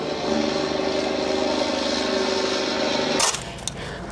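An excavator digs out a basement filled with water, its engine droning steadily and loudly at close range before dropping off sharply near the end.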